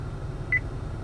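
A single short electronic beep from an Acura car's voice recognition system, clean and steady over a low cabin hum, with no talking.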